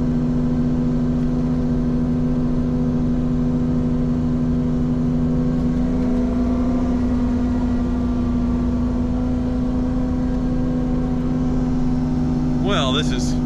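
Ferrari 458 Spider engine and exhaust running steadily with a strong low droning hum and slight pitch rise midway, loud and close, under talking voices.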